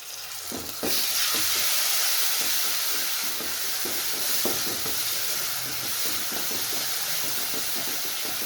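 Tomatoes, turmeric, red chilli and spices fry in oil for a Punjabi moth dal curry, giving a loud, steady sizzle with repeated scraping stir strokes close by.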